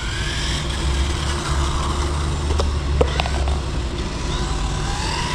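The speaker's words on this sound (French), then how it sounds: "C'est un petit moteur charbon." A small glow-fuel engine in a Kyosho Datsun 240Z rally RC car drones steadily at a distance, with a faint buzzing pitch that rises and falls over continuous background noise.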